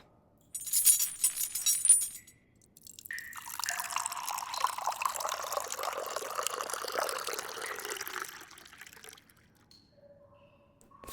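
Water poured as an audio drama sound effect: a brief clinking splash opens, then a steady pouring stream fills a vessel for several seconds, rising slightly in pitch before trailing off into quiet.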